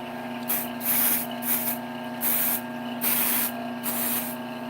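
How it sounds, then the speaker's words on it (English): Accelerator spray hisses from a can at a woodturning bench, in five short, even bursts of airy spray, each about half a second long, over a steady background hum. "And then this is accelerator spray."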